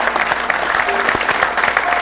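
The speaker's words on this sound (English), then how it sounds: "You can applaud, they deserve it." A live audience applauds a pair of performers during a comedy and singing show, steady dense clapping filling the room for two seconds with a faint voice underneath.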